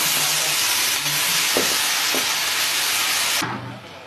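Onion hitting hot oil in a pan for empanadas sends up a loud, broad hissing sizzle that stays strong, then drops away abruptly near the end, leaving a softer fry.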